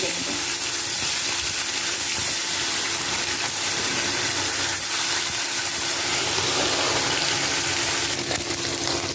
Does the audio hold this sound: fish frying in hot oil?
yes